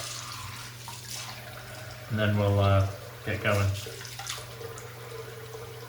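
A steady wash of running tap water throughout, with someone speaking briefly over it midway.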